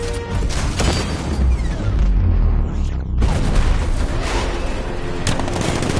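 Heavy booming 60mm cannon fire and explosions in Batman: Arkham Knight roll on continuously, loud and dense, with bursts of rapid gunfire layered through a game battle scene.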